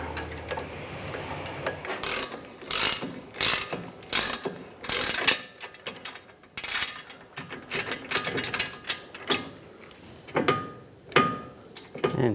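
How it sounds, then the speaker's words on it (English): A ratcheting wrench with a 21mm head and a T40 socket clicks in rapid bursts while loosening a nut on a 2012-2019 BMW 328i xDrive front control arm, the close, loud ratchet strokes separated by short pauses. "I'm going to use a 21mm wrench and a T40 socket."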